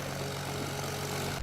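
A sustained, droning video game horn signalling a supply drop holds steadily over a constant engine-like rumble, loud and unbroken before cutting off abruptly at the end.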